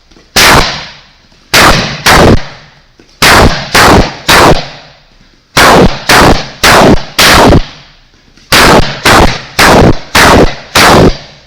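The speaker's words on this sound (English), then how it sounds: "And me going for my round kick, it's going to be, you want to hit the shin of your leg, not your foot." Martial arts round kicks land on a held body shield in a home training drill: loud, sharp, close smacks in quick groups of two to five, separated by short pauses.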